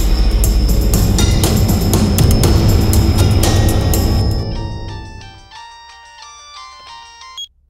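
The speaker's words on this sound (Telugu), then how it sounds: "ఎంతసేపు ఫోన్ మోగుతుంటే తీయకుండా ఏం చేస్తున్నావు" A telephone rings with a repeated electronic ringtone melody, loud over background noise at first, then continuing alone and clearer in a quiet room before stopping abruptly.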